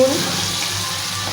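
Shrimp fry lightly in a pan with bay leaf, spices and salt, giving a steady, moderate sizzle that lasts the whole brief moment.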